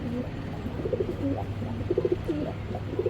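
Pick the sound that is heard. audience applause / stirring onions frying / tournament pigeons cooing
tournament pigeons cooing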